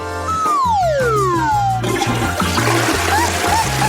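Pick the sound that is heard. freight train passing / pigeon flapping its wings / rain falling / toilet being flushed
toilet being flushed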